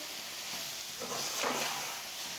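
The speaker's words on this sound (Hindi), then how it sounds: "सूजी को भी इसी तरह मीडियम आंच पर चम्मच चलाते हुए भूनना" Semolina roasts in a pan over medium heat while a spoon stirs it, giving a steady close hiss and sizzle with a faint scrape that swells slightly midway.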